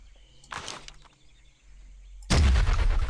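Gunfire in the Jurassic Park Revolution video game: a sharp shot bursts out mid-clip, followed by a louder, sustained crack and rumble of firing at the end, close and prominent.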